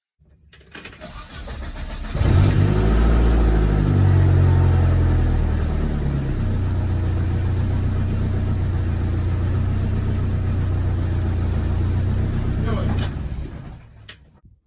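A 1984 Saab 900 Turbo SPG engine starts with a crank and catches, then settles into a steady, low idle that runs near and loud before cutting off abruptly.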